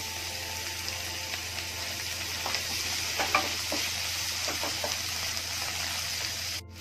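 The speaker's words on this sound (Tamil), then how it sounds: "இப்போ தக்காளி நல்லா வதங்கிடுச்சு." Tomato sautéing in a pan for Chettinad brinjal dish sizzles in a steady, moderately loud hiss, with a few soft stirring scrapes in the middle and a brief clatter near the end.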